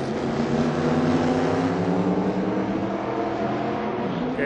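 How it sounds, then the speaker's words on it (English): A NASCAR race car roars past, its loud engine drone sweeping smoothly through the pass and fading slightly toward the end, with no voices over it. "hear that car right now?"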